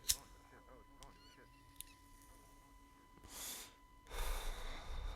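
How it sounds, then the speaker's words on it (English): Close breathing into a microphone: one sharp gasp, then quiet, and later two loud rushing breaths a few seconds apart, with faint background sounds in between. "You can hear me breathing inside of my body."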